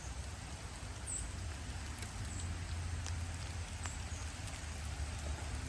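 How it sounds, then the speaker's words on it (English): Sleet falls steadily outdoors, a continuous fine patter of mixed rain and snow. It stays even and moderately quiet throughout, with a few faint crisp ticks of ice hitting surfaces and no voices. "it's starting to sleet again"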